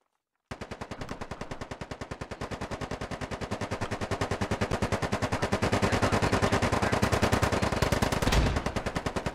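Rapid, evenly spaced full-auto gunfire from the Squad video game, a long unbroken burst of sharp cracks that stays loud and close throughout, briefly building in intensity near the end before continuing.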